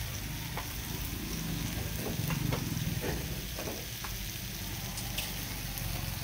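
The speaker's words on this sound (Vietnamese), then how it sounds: "Rồi, như vậy là cái món sườn non muối chiên của mình nó cũng đã vàng tới." Salted pork ribs fry in hot oil until golden with a steady crackling sizzle, broken by a few light scraping stir sounds close by.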